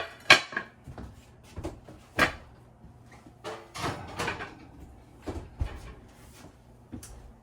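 A lid goes onto a pot for baking sourdough bread: several sharp metallic clanks and knocks, close and fairly quiet, spaced out irregularly with rustling and handling noises between them.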